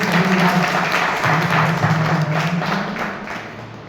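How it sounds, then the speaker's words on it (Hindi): Audience applause welcoming newly nominated members at a meeting, a dense, continuous patter of clapping with a faint hum or voice underneath, gradually fading toward the end. "सभी से हम लोग तलवा के तालियों से स्वागत करें।"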